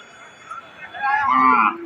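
A cow at a Qurbani cattle market in Monohardi lets out a single drawn-out moo close by, following brief faint background chatter.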